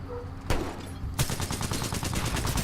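Submachine gun fire in Titanfall 2 on the Boomtown map, a short burst followed by a longer rapid automatic burst of close, loud shots.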